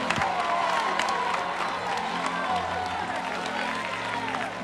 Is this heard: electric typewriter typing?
no